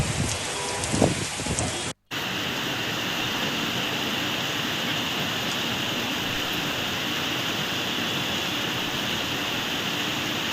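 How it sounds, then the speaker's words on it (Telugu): Heavy rain pours over Hyderabad in a steady, dense hiss, broken only by a momentary dropout early on, with no voices. "హైదరాబాద్ లో పలు చోట్ల భారీగా వర్షం కురుస్తోంది."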